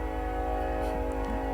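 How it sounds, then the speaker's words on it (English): A train sounds its horn somewhere near a college disc golf course, a steady sustained tone holding through the whole moment, loud and continuous with no voices over it. "Just horribly timed train."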